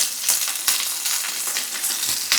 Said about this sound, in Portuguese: E agora fritar o frango em fogo médio até dourar bem.